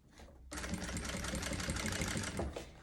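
A sewing machine stitches the trim on a pet backpack, running in a steady, close, continuous whir after a brief quiet start, slowing slightly near the end.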